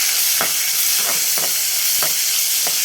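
One large onion and two small tomatoes sautéing in a kadai, a continuous bright sizzle with a spoon scraping and stirring the pan in about five evenly spaced strokes, close and loud, no voices.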